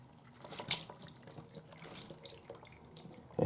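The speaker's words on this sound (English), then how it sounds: "Now, you rinse all that dirt." Tap water running over an air filter to rinse dirt out, a soft, steady splashing with a few louder spurts near the start and middle, heard close and alone.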